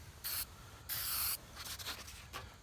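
Aerosol paint sprays onto the bare metal of a brake rotor for a Saturn SC1 brake repair, in several short hissing bursts, two longer and then a few brief puffs, close and clear.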